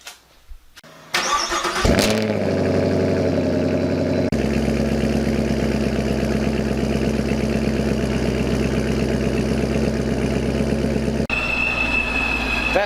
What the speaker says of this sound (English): So who's ready for a cold start?